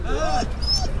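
A dog whimpers close by in a short run of high, wavering whines that rise and fall over a steady background hum.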